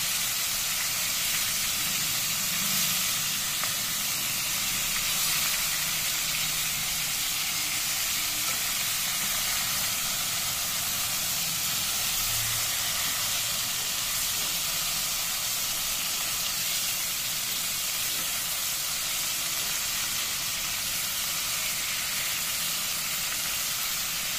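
Loitta fish fry in hot oil with a loud, continuous sizzle and hiss, steady and close throughout with no talking.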